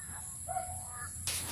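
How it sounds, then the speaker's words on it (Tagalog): A crow caws twice in quick succession, somewhat distant and faint, against a steady background hiss outdoors in the countryside. "May uwak yata."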